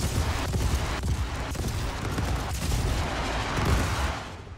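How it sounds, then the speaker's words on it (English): Four missiles launched from the turret of an Idris warship in a space combat video game, heard as a dense, rumbling roar of rocket blasts with a few sharper thumps, steady and loud before fading at the end. "Let's fire 4 missiles right there"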